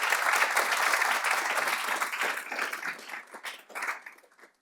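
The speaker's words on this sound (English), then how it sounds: "Can we maybe do a quick round of applause for Danny?" An audience in a room gives a quick round of applause for Danny Boockvar, president of Five Iron Golf, dense clapping that holds steady and then thins out and fades over a few seconds.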